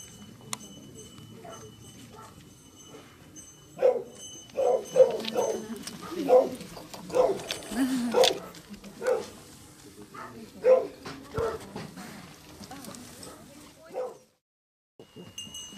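A restless puppy at an animal shelter in the earthquake and nuclear disaster zone gives a run of sharp barks and whimpers in the middle stretch, with faint voices in the background.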